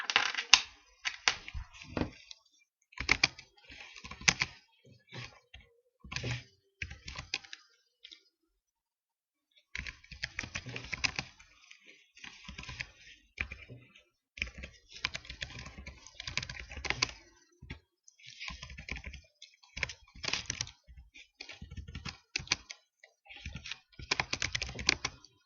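Fingers type on a computer keyboard in quick bursts of crisp, close key clicks. Brief pauses separate the bursts, including one longer silence partway through.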